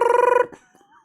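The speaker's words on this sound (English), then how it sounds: "Fucking dial tone." A steady telephone tone sounds loud and close for under half a second, cutting off abruptly, followed by faint scattered noise.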